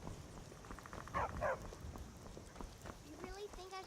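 A dog in the video game Skyrim gives two quick barks in the middle of a busy game soundscape, someone speaking nearby with other game sounds around.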